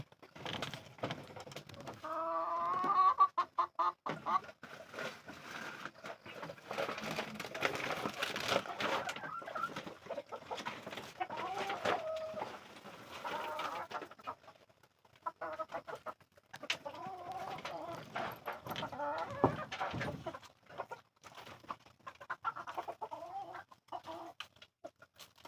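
Backyard chickens being fed, clucking and squawking in a busy overlapping chorus close by, with bursts of louder calls and brief quieter gaps, no talking.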